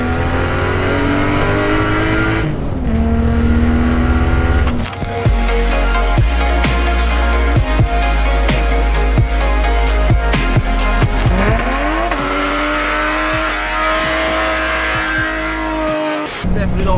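A Toyota JZX81 with an engine of about 350 to 400 horsepower drives hard, revving and shifting, its tires squealing through slides, with voices talking over the engine noise.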